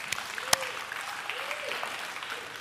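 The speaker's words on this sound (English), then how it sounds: "We really have to give these people a round of applause" Applause from a talk audience at a conference on psychedelics and party policy, a steady wash of clapping with a sharp single clap near the start, moderately loud and sustained.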